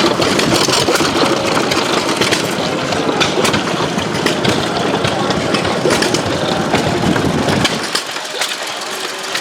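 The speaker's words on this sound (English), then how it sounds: "The hit and miss engine brand is Gray Motor Company out of Detroit, Model G." A Gray Motor Company Model G hit-and-miss engine chugs at an outdoor gas-up show, with a loud, steady, rough knocking close by that fades out near the end.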